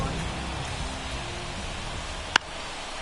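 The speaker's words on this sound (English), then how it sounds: "the field's not going to be able to hold up if the rain gets any worse than this" Rain falling on a baseball field in the video game MLB The Show 24, a steady broadband hiss of rainfall that holds evenly throughout, with one sharp click near the end.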